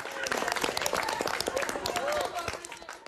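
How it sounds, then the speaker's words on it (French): Students at Collège Ampère in Lyon applaud in school corridors and classrooms, a dense, close patter of many hands clapping continuously with voices mixed in. "Dans les couloirs et en cours, les élèves applaudissent."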